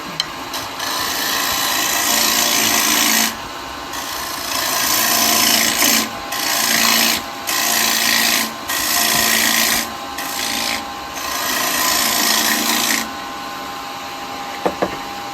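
A carbide tool cuts wood on a lathe while turning a cowboy hat, a steady close rasping scrape in long bursts broken by short pauses, with no talking.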